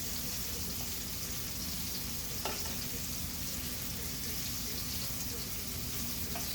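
Thin-sliced beef sizzles in a frying pan, a constant dense crackle at an even level with a brief clink partway through.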